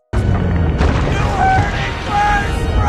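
Huge volcanic eruption blast from the Yellowstone scene in the disaster film 2012, a sudden loud deep boom that swells into a sustained rumbling roar with scattered higher crackles.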